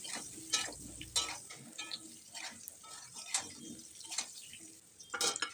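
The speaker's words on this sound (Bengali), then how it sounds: "আলু ভাজার প্রায় শেষের দিকে এসে দিয়ে দেব হলুদ দিয়ে অল্প একটু সময় আমরা আলুটা ভাজবো।" Potatoes, Chandramukhi variety, frying with turmeric in a pan, giving a soft steady crackle with intermittent scraping and stirring clicks, close and moderately quiet, no talk.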